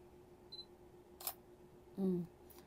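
A beginner vlogging camera fires off a photo, giving a short electronic shutter click and then a brief synthetic beep-like tone, both close and isolated against a quiet background.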